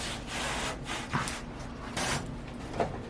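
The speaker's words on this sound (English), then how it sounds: "At this point we need to clear out some waste with the chisel" A chisel scrapes and pares out waste wood in a woodworking project, making close, rough rasping strokes in a few long pushes with short breaks between them.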